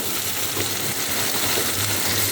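Meat browning with spices in a pan, a steady close sizzle and frying hiss carrying on throughout, with faint stirring scrapes and no talk.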